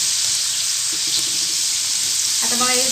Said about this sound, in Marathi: गरम झाले तेल. आता मी गरम करायचं टाकून तळून